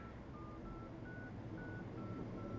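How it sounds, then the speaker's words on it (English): A VoIP calling app placing a call, giving a rapid run of about seven evenly spaced dialing beeps of slightly varying pitch over a steady background hiss, with no speech. "because I'll dial my phone number"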